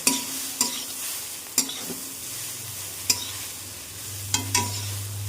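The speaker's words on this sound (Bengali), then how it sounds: "ভালো করে নেড়ে ছেড়ে আমরা চাউমিনটাকে নামিয়ে নেব" Egg chowmein stir-fried with soy sauce: a bed of sizzling sits under repeated loud clanks and scrapes from tossing and stirring in the pan, roughly every second or so, up close and without talk.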